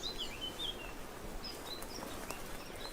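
A male Eurasian blackcap held in a ringing trap gives thin, high chirps and calls at intervals over a hissy outdoor background.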